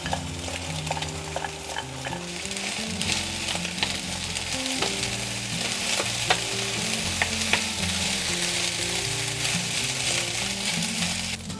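Rice for Cantonese fried rice stir-fried in a wok with white pepper, a continuous close sizzle with constant scraping and tossing strokes and light metallic clicks throughout.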